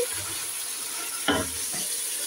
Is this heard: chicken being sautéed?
yes